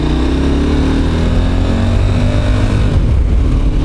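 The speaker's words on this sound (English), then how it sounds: "So first gear, full throttle." KTM 1190 motorcycle stuck in limp mode, run at full throttle in first gear: a loud, steady engine drone with rising harmonics that climb in pitch as revs build, close and continuous with no talk.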